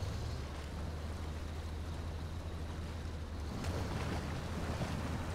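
Heavy truck engine droning steadily while wading through river water in SnowRunner, Michigan map, a two-wheel-drive Chevy, with a constant loud rushing wash of water and no speech.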